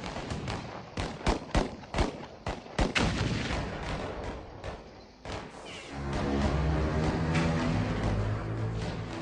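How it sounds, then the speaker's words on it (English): Rapid bursts of gunfire crack in quick succession, then give way to a dense, continuous roar of heavy shooting that fills the rest of the clip. "The thunder of gunfire rocks the walls of Doomsday Mountain"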